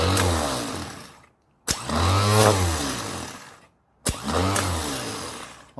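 Starter motor for a 1982 Chevy 350 engine, tested off the vehicle on a bench with a starter button, whirs up loudly three times in close bursts, each spin whining for a second or two before cutting off, with brief silences between.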